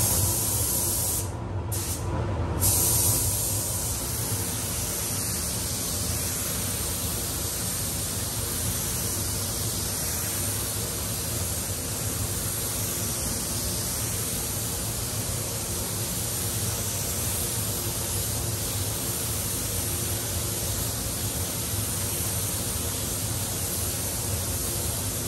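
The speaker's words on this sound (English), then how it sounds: "So we're going to primer up some stuff." A spray gun laying primer onto a fiberglass Honda Civic FN2 Type R bonnet, a steady close hiss of atomized paint running unbroken for over twenty seconds after a brief break near the start.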